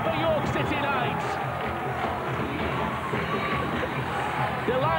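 Rugby league crowd at the Championship One Grand Final erupting for a York City Knights try, a dense, sustained roar with cheering and whistles throughout, commentary voices running over the top.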